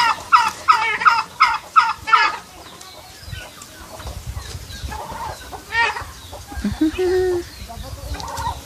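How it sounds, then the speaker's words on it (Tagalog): Fowl, likely chickens, on a farm in the provinces, with a burst of rapid repeated clucking or gobbling calls up close at the start, then quieter scattered clucks and rustling farmyard ambience. "May mga maliliit na manok."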